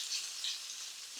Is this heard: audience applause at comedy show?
no